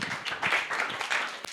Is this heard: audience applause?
yes